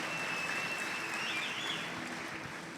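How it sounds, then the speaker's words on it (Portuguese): Church congregation applauding visitors at an Easter service, a steady, dense wash of clapping from many hands that carries on for the whole stretch with no talk over it. "Dê um forte aplauso para esses nossos visitantes aqui"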